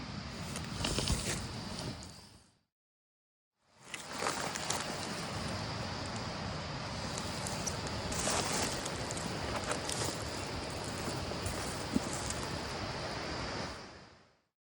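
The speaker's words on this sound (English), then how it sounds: "This wind is really not helping me out too much." Strong wind roars through a New South Wales state forest in wild weather, a loud continuous rush that cuts out briefly and then returns, buffeting the microphone, with no talk.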